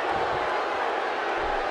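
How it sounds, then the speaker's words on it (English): A wrestling arena crowd roars continuously during a Seth Rollins versus Roman Reigns match, a dense, loud wash of cheering that fills the whole moment without a break. "by the sound of this crowd, I think they're getting what they wanted."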